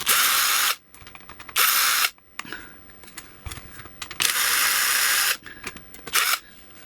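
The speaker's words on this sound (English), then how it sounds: "Let's take these 2 screws out." A cordless electric screwdriver backs two screws out of a Watson Power Mite NF power supply unit, with several close, high whirring bursts separated by quieter clicks and handling noises and no talking.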